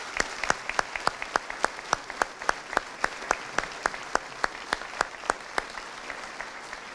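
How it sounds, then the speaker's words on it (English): Audience applause at a high school graduation ceremony: a steady run of sharp, evenly spaced claps, mostly from a few hands close by, keeping a regular rhythm over a faint background crowd. "Let's give them a nice round of applause."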